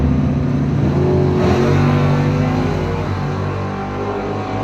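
A 1979 Pontiac Phoenix drag race car roars loudly at a bracket race. The engine note is steady and sustained, with a shift in pitch about a third of the way in as it launches and accelerates.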